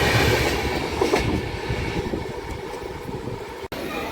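The Repalle Express from Secunderabad rolls into Guntur Junction, a loud continuous rumble with rhythmic clickety-clack of wagons and a brief dropout near the end.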